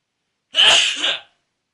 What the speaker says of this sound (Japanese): まずはね、この小よりを使ってくしゃみをするわけですけども、まず普通のくしゃみをね、